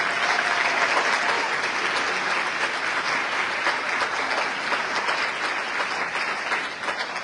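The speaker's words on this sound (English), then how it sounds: "Let's give them a round of applause and say thank you and welcome to the Yonkers Board of Education." A large audience at a mayor's State of the City address gives a sustained, dense round of applause that holds steady from start to finish.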